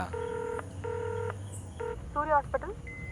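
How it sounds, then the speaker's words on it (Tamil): A telephone is dialed: a few steady, distinct keypad tones sound in sequence, close and clear over a low hum, followed by brief chirping electronic tones. "ஓ ஃபோன் பண்ணிட்டுருக்கியா?"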